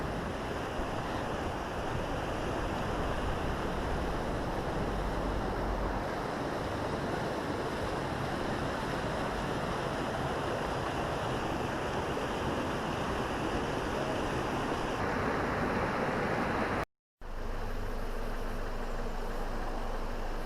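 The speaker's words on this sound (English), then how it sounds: "I looked a little bit higher and saw a really pretty waterfall" A creek and waterfall in Glacier National Park, Montana, rush as a loud, steady broadband roar of flowing water that continues unbroken except for a brief cut near the end.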